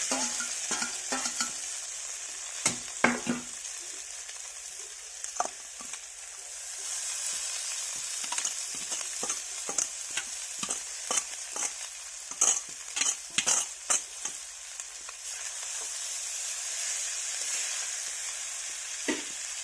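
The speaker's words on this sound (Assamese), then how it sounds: "তাৰপিছত 2 মিনিট সময় ভাজি ল'ম মই চাউখিনি" Chow mein noodles are stir-fried in a hot pan at home: a steady close sizzle punctuated by many quick scraping and tossing strokes that come faster toward the middle, with no voices.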